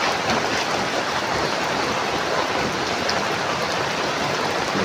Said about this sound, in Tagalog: abutan kami ng ulan.